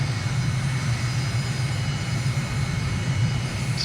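A steady, droning aircraft engine in Microsoft Flight Simulator during a runway approach, with a continuous low rumble and hiss that stays constant and loud throughout, with no talking.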